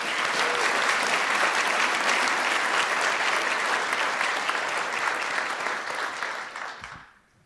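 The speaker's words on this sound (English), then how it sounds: "We could give them one final round of applause." An audience at a medical school honors convocation gives a sustained round of applause, steady and full in a large hall, fading out over the final second.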